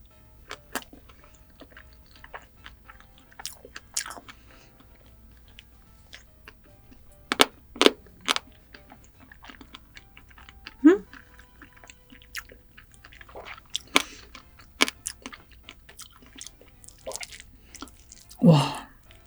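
A Vietnamese dish coloured with gac fruit, prepared with sugar and honey and resembling risotto, is chewed softly up close, with scattered small bites, clicks and wet mouth sounds across a quiet background.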